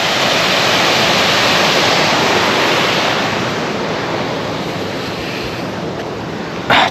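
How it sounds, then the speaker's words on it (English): The River Trent rushing fast past West Stockwith Lock: a loud, continuous roar of fast-flowing water that eases slightly in the later seconds, with a brief bump of wind buffeting at the very end and no talking. "I tell you what, there's some power in that river today."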